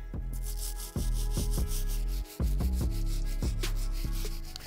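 Stiff bristle brush scrubbing the midsole of a Balenciaga Triple S sneaker, a close, steady rubbing texture broken into repeated strokes, with a brief pause midway and no talking.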